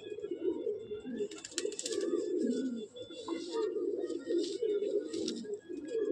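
Several Madrasi racing pigeons in a home loft coo continuously in low, throaty warbles, with a few scattered higher chirps and rustles over the steady murmur.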